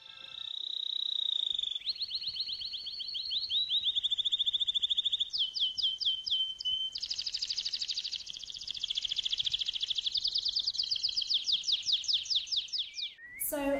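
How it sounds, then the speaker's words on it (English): Recorded birdsong plays in an art gallery: bright, rapid trills and warbling phrases repeat continuously for several seconds, clear and fairly close, with a brief break near the start. "the reason why I have bird songs playing in the exhibition"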